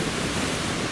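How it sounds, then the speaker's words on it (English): Strong wind gusting steadily across an open wilderness trail, a dense, rushing roar buffeting the microphone for the full second with no voices. "It is super windy."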